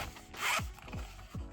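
The zipper on a zip-up carrying case for KBEar CG01 earphones is pulled in a few short, close rasping strokes, roughly three quick zips in succession.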